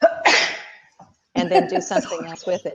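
One loud, sharp human sneeze bursts out at the start. After a short pause, a person goes on talking up close.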